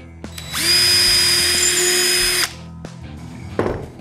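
A power drill spins up and bores into the wooden body of a Fender P-Bass for about two seconds, whining steadily, then stops. Faint handling knocks come before and after.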